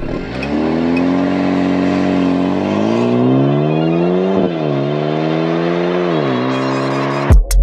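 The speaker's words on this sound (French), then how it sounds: "Cette semaine, je conduis le Maserati Grecale Modena" A 2023 Maserati Grecale Modena SUV drives with a loud, close engine note that climbs through revs, dips, then rises again as it accelerates, ending in a brief sharp burst, with no talking.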